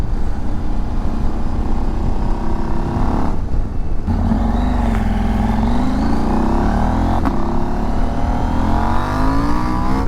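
A Husqvarna Norden 901 motorcycle engine drones at about 2,500 RPM while cruising at 60 km/h in sixth gear, a loud steady hum with wind noise and slight shifts in pitch.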